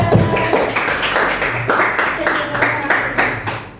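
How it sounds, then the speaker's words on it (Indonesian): Classroom of students claps for a student group after a presentation, a steady burst of many hands with a slightly uneven rhythm, close and fairly loud throughout before easing off at the end. "tepuk tangan untuk kelompok 2"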